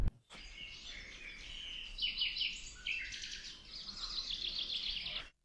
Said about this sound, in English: If we stay silent, you can hear the birds